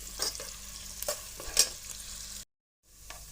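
Onions frying in a pan and being stirred, a soft continuous sizzle broken by scraping stirs, with a brief pause near the end before the sizzle resumes.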